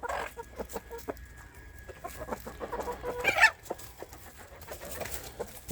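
A flock of backyard hens clucks in scattered short calls, near and moderately loud, with one sharper squawk partway through and no talking.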